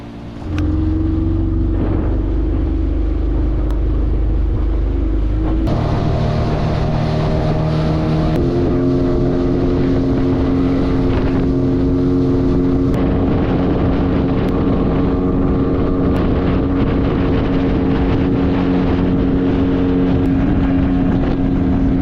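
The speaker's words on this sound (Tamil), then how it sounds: "எங்களுக்கான போட் ரெடி ஆகிட்டு போய் என்னென்ன விஷயம் நடக்க போதுன்னு Gabriel" A dolphin-watching boat's engine off Trincomalee runs loud and steady throughout, with a deep drone that shifts pitch as the throttle changes, mixed with wind buffeting the microphone.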